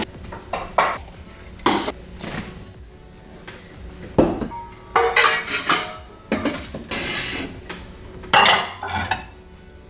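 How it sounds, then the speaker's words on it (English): Glass dishes clink and clatter against each other and cabinet shelves in a home kitchen, a series of sharp, close knocks and rattles in irregular bursts with quiet gaps between. "So I wanted to put glass dishes like this in there"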